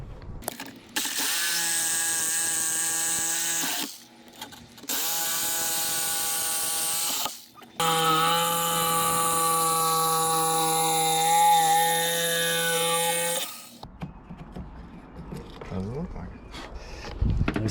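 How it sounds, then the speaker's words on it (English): A jigsaw cuts a rectangle through a boat's hull for an aerator install, its motor whining loudly in three long, steady bursts with short pauses between them. Quieter handling noises follow at the end. "grab our drill bit and our jigsaw and get to cutting"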